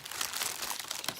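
Printed craft paper from a monthly crafting kit crinkles and rustles continuously as it is handled up close, a dense, steady papery crackle with no talking.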